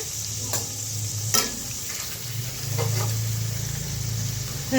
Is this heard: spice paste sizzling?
yes